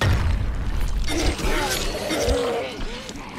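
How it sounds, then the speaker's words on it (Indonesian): A weapon breaking in the zombie game Dying Light, heard as a booming, shattering crash with metallic ringing tails, mixed with game effects and a voice talking over it. "Senjatanya rusak."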